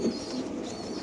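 Racing pigeons at a market coo briefly, a short, soft, throaty murmur over a steady low background hum.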